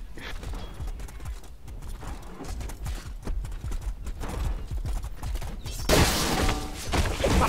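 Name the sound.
horse hooves clip-clopping in a jousting video game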